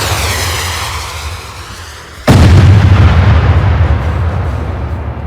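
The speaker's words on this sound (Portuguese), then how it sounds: "o matador puxa uma bazuca e dispara para cima deles" A bazooka fires in an action film scene: a low rumble, then one sudden loud blast that rolls into a long, heavy explosion roar and slowly fades.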